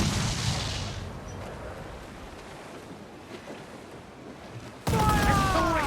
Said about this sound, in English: Fire! It's vulnerable there, Captain! Fire! Ready to fire!